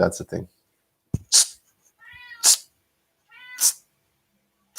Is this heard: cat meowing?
yes